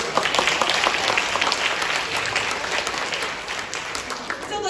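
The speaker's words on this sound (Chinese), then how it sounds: "给他一个掌声" An audience bursts into applause at a seminar, a dense, lively patter of many hands clapping close by for several seconds, gradually thinning toward the end.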